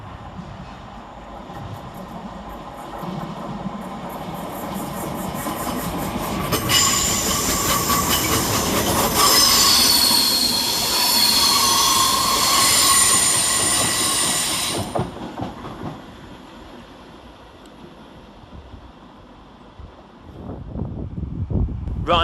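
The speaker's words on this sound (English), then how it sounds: "Next around the corner for Northern is 319385, working 2 Charlie 24 from Wigan Northwestern to Liverpool" A Northern class 319 electric train passes Edge Hill station on the line toward Liverpool Lime Street, rumbling closer, peaking loud with bright wheel squeal and clatter, then fading away, with no talk.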